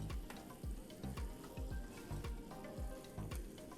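Pot of water at a rolling boil, heated for cooking fresh pasta, bubbling close up with a steady, rhythmic series of low burbles under a continuous sizzling hiss.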